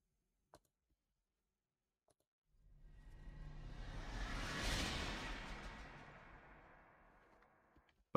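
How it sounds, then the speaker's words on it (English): A single whoosh sound effect in a tense countdown film score cue swells steadily from quiet to a broad rushing peak, then tapers away, heard alone after a couple of faint clicks. "We've got a couple of whooshes."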